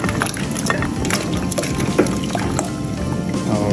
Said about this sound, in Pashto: اول به دغه کشته ور واچوئ نو دې ته دغه اوبو ته به یې واچوئ